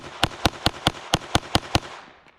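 Eight sharp pistol shots at an outdoor shooting range, fired in a quick, slightly uneven rhythm, loud and close, with no talk.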